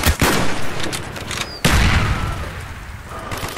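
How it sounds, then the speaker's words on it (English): Mortar fire and rattling gunfire from a Call of Duty: Black Ops mission, loud and dense throughout, with a sharp heavy blast near the midpoint followed by continued firing. "Firing mortars! Firing!"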